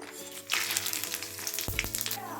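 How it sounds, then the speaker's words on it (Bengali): Whole spices crackle and sizzle as they hit hot mustard oil over caramelized sugar, a steady close frying hiss with a couple of sharper pops near the end. "তেলে চিনি ফোড়ন দেব। এইবার চিনিটা ক্যারামেলাইজড হয়ে গেছে, আমি এবার এগুলো ফোড়ন দেব"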